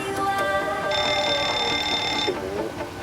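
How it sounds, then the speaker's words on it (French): Cockpit alarm test in a Boeing 737-800 of Virgin Blue in the FSX flight simulator game, a steady electronic warning tone with high harmonics running for about a second and a half over a continuous background hum. "Du coup on va tester les alarmes."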